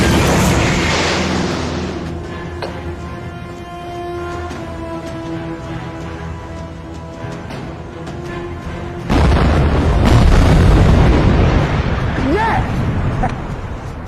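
Torpedoes fire and explosions go off in a naval war film set in the Atlantic, with a sustained rumble giving way to a sudden loud, roaring burst, and voices heard amid the noise.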